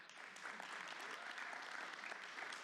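Audience applause at the Right to Life AGM 2024, a steady wash of many hands clapping together, heard faint and distant and sustained throughout.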